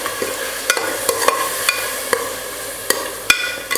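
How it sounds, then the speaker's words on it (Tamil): Tomato paste sautés in a pan with a low, continuous sizzle, broken by a run of distinct spatula clinks and scrapes at irregular intervals. It is close and unaccompanied. "தக்காளி விழுது சேர்த்ததுக்கப்புறம் ஒரு 2 நிமிஷம் நல்லா வதக்கிக்கிட்டேன்."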